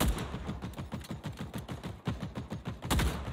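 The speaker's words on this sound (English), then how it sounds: "I'm throwing an audio decoy." An audio decoy in the shooter game The Cycle: Frontier fires off a steady stream of fake gunfire: rapid, loud bursts like automatic weapons that rattle on continuously, with no talking.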